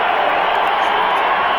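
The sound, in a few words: bowling crowd cheering and applauding, standing ovation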